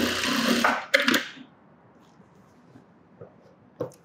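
Sewing machine stitching a sleeveless top: a loud, close whirring run of about a second and a half stops abruptly, followed by quiet handling sounds and a small knock.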